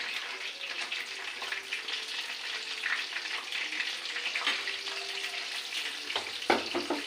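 Gourd leaf rolls frying in a pan, a continuous close sizzle with light crackling and occasional stirring scrapes, and no speech.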